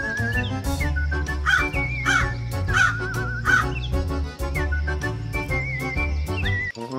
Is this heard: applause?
no